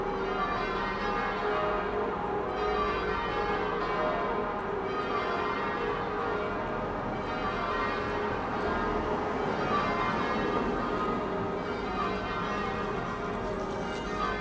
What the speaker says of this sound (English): I think they're bringing the bells down now.